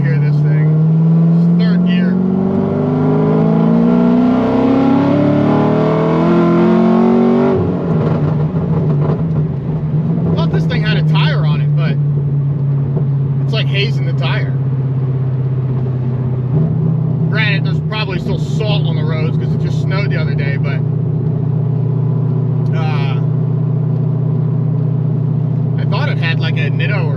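A titanium straight-piped 700 hp Corvette C6 Z06 pulls hard in third gear, its loud, raspy exhaust rising in pitch, then settling into a deep, steady drone as the car cruises on with brief speech around it.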